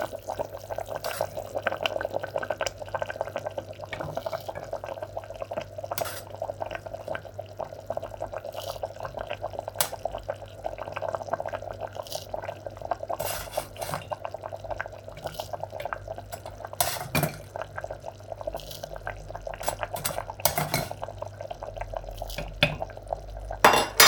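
Soaked homemade 3aich pasta, small pellet-shaped Algerian pasta, is added into a vegetable sauce, with steady wet sizzling and bubbling and scattered clinks of a utensil against the pot, close and continuous.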